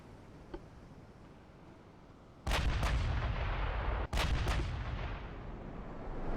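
Two deep blasts from 16-inch naval guns in the warship game Ultimate Admiral Dreadnoughts, each a sudden loud boom that rolls on, heard over a steady low background rumble with no talking.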